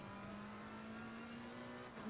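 A Mercedes GT3 race car in Assetto Corsa Competizione holds a steady, high engine note at speed, loud and continuous, with a slight shift near the end.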